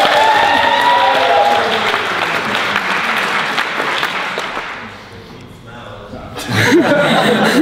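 An audience at a university debating society applauds with scattered chuckles, a dense burst of clapping that fades midway, then a voice speaks over renewed noise.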